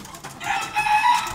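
Chickens during mating, a rooster mounting a hen, giving a short, fairly close burst of clucking and squawking fowl calls that swells in the second half.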